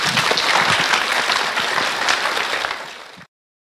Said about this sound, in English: give Team A&E another round of applause